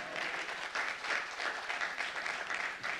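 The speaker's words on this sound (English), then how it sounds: "Now, I should get an applause on that one" Steady applause from a book-talk audience, dense and even across the whole stretch, moderately loud with a low rhythmic thump running underneath and no voices over it.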